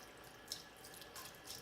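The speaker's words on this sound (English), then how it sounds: "and I'm going to use more warm water." Warm water runs steadily from a sink tap for rinsing makeup brushes, a soft, even hiss with faint splashes, close by and without talk.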